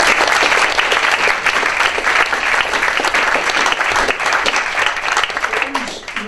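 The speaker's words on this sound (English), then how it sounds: "So I think you deserve a round of applause." Audience applause at the close of a UCL Energy Institute debate on energy and building research, a loud, dense wash of clapping that holds steady throughout and thins slightly at the very end.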